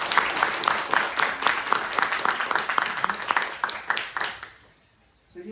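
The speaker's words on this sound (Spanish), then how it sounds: "Un aplauso, por favor." Audience applause at a book presentation on testimonies of torture in México 1977, a lively patter of many hands that fades out, followed by a brief pause and the start of a voice.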